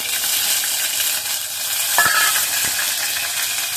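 Ginger sizzles in hot oil with chillies and bay leaf, a dense close frying hiss with a couple of light stirring clinks partway through.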